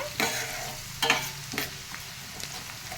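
Tempering spices fry in a pan for a broad bean and tomato curry, giving a soft continuous sizzle broken by a few sharp scraping stirs of a spoon.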